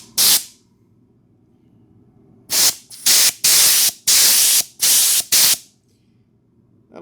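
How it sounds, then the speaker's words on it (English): Compressed air from an air hose blasts into a Logitech K740 keyboard to clear debris, heard as one short hiss and then a cluster of loud, harsh bursts in quick succession, close and alone. "just take a air hose and start blowing it in here"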